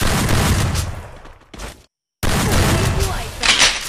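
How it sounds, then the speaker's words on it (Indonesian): Shotgun blasts in a battle royale shooter game, a few loud close booms around a short break in the sound, over dense game noise. "Shotgun."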